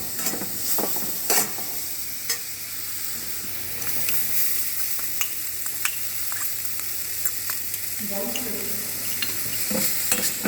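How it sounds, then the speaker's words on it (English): Chopped onions and garlic sauté in a paella pan with a steady close sizzle, broken by scraping stir strokes and clinks throughout and a brief louder burst of frying near the end. "Saute it well."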